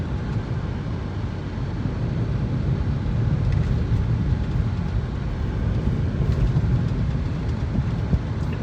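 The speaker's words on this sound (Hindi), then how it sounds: "बाकी रोड वगैरह की नॉइज़, कैबिन में अगर गाना नहीं बज रहा है तो बहुत हल्की फुल्की मिनिमल सी आती है" Steady low road and tyre rumble inside the cabin of a Mahindra Scorpio N while driving, a constant dull hum with no music or talk over it.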